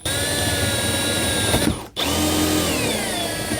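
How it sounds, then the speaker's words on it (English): A power drill bores through the wall panel of a 2018 Jayco RV, making a loud, close, steady whine. Near the two-second mark it stops for a moment, then starts again and keeps running. "So we'll just line it up with our marks, and we're just going to drill straight on through."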